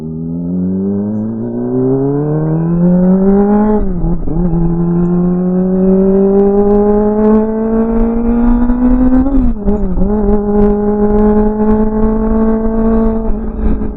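A car cruises along a highway with its engine tone rising steadily through two gear shifts, a loud close interior drone under constant road noise, no talking.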